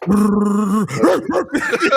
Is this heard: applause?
no